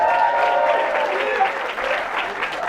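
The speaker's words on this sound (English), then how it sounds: "can you give a round of applause" An indoor audience at a supercar customising show premiere breaks into steady, full applause that carries through the whole moment, easing slightly toward the end.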